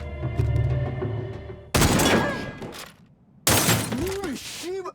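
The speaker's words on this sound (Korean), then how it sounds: "총을 쏴 위협하는 데 성공합니다." Gunfire in a tense Korean TV drama scene: a woman fires a pistol to threaten an attacker, two sharp loud bursts with a crash-like wash, separated by a pause, with a voice shouting around them.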